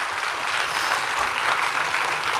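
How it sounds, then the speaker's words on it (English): Dense, steady clapping from an audience in a hall, loud and continuous throughout with no voices over it. "You can clap freely, dil se."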